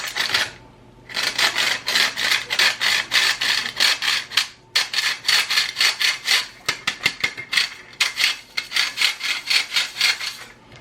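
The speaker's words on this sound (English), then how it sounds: "now I'm going to sift this in here" Flour and salt being sifted into a bowl on a farm kitchen counter, a close rhythmic run of scratchy rasping strokes in quick bursts with brief pauses, no talking.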